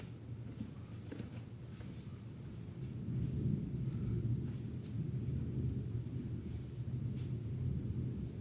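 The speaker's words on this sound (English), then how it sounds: "I still hear a lot of thunder" Low, continuous rumbling that swells midway and rolls on steadily, like distant thunder, with faint crackles above and no voices.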